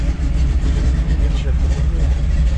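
A 1956 Chevrolet 3100 pickup truck engine running close by with a deep, loud rumble, rising slightly as it is revved, while someone talks over it.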